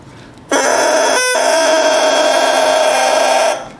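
A very new bassoon reed crows on its own, a loud, buzzy, sustained squawk with a bright harmonic-rich tone held for about three seconds, briefly breaking partway through, around an E pitch.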